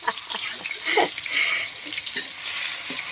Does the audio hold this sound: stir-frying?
yes